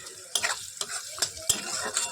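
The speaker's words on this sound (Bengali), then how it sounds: "একটুখানি আলু ভাজার জন্য পেঁয়াজ লঙ্কা কালো জিরা ফোড়ন দিয়ে দিলাম" Chopped onion, chili and nigella seeds tempering in hot oil for frying potatoes give off a steady close sizzle, punctuated by several sharp spatula scrapes and clanks against the pan.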